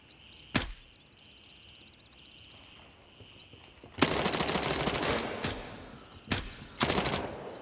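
Gunfire in the video game Gray Zone: one sharp shot, then a quiet stretch of faint clicking, then a fast loud automatic burst followed by two shorter bursts, close and unmasked.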